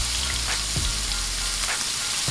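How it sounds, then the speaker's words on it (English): Steak laid flat in a hot greased pan, sizzling and frying steadily, a constant hiss with small pops and crackles throughout, close and fairly loud, with no talking. "I'm gonna take my steak and I'm gonna lay them down flat like this"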